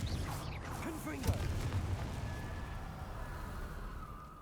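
Confringo explosive spells cast in the video game Hogwarts Legacy, a series of deep booming blasts and rumbling crackles fading over a few seconds, with a voice heard faintly under them.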